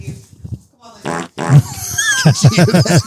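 A voice imitates a fart with a few sputtering blown-lip bursts, then a quick run of rhythmic buzzing pulses, close and loud, mixed with talk and laughter.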